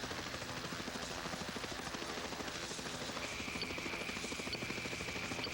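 A helicopter drones steadily throughout over snowy Newfoundland terrain, its rotor thudding in a continuous rhythmic beat, with a faint high whine joining partway through.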